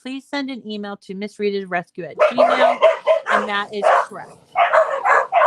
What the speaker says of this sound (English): Oh, I don't know why the dogs are barking.